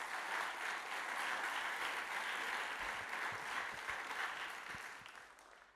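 An audience at a church ministry gathering applauds the Canvas team with steady, sustained clapping throughout, moderately distant, tapering slightly toward the end.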